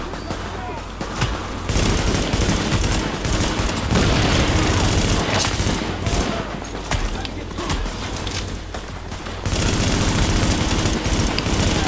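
Rapid gunfire from the video game The Division, with dense bursts of automatic shots and booming impacts filling nearly the whole stretch, loud and continuous with brief lulls.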